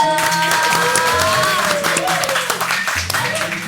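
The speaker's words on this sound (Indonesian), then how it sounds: "tepuk tangan dulu dong." Audience applause on a comedy talk show stage, steady dense clapping under music and overlapping voices throughout.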